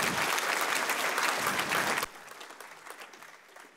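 A PyData Warsaw conference audience breaks into a full burst of applause that cuts off sharply about halfway through, leaving a quieter thinning patter of clapping and room murmur afterward.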